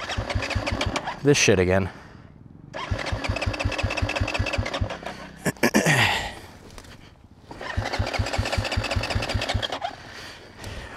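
A fuel-injected dirt bike is started repeatedly, roaring to a rough idle three times with sputtering stalls and revving in between, while someone speaks briefly.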